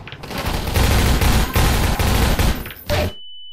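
Rapid automatic gunfire in the video game Half-Life 2, loud, close bursts that rattle on for about three seconds with brief gaps, then cut off and leave a thin steady electronic tone.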